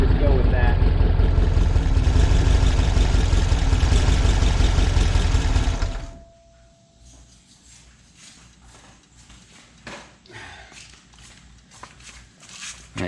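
A carbureted engine idles steadily after an idle adjustment, a loud, even, rumbling drone close by that cuts off abruptly partway through, leaving quieter handling noises and faint background sounds.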